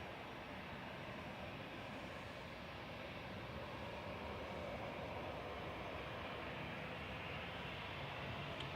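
An Etihad airliner at Manchester Airport gives a steady, broad roar that holds an even level for several seconds, distant and continuous with no voices.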